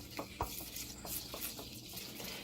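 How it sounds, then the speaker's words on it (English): Chicken being stirred in olive oil, spices and salt for a marinade, giving soft, irregular wet stirring and squelching sounds close up with no talking. "I'm going ahead and stirring it all together so that that salt dissolves."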